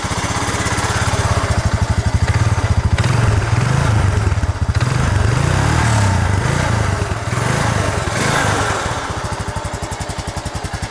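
Close, steady idle of a Honda Rancher ATV engine with a quiet aftermarket muffler, a rapid even thrum with some clattery mechanical noise and slight rises in pitch, with no voices.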